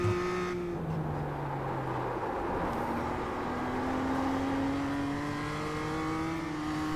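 Race car engine on a qualifying lap in iRacing: a continuous, loud engine note that drops as the car shifts or brakes, then climbs steadily in pitch under acceleration, with faint tire noise underneath.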